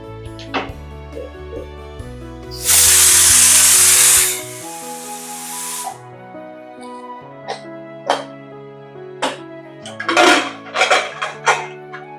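A pressure cooker making masale bhat gives a loud, steady steam whistle lasting about two seconds, with clinking and tapping kitchen sounds before and after.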